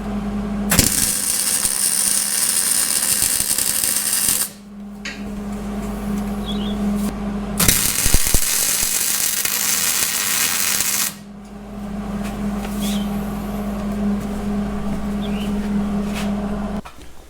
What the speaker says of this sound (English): We're going to weld inside the shop, just enough to tack those brackets to the pan.